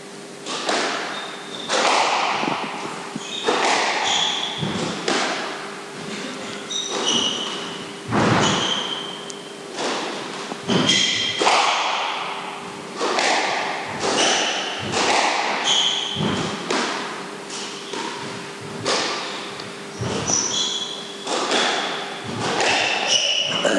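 Squash rally in a professional match: sharp, rapid thuds and cracks of the ball against racquets and walls repeating at a steady back-and-forth rhythm, with faint squeaks and crowd or commentary noise underneath.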